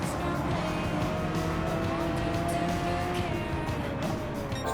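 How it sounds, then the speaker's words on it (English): A Honda NSX race car in Castrol livery, driven in a racing video game, holds a steady engine drone with faint tire squeal, continuous and even in level throughout. "He's driving the Honda, the NSX Castrol livery on it."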